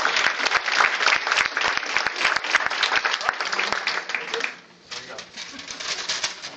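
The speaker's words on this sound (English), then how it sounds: "Round of applause." An audience claps during a holiday office skit, a dense burst of applause that fades after about four seconds, then a lighter patter of clapping resumes with faint voices underneath.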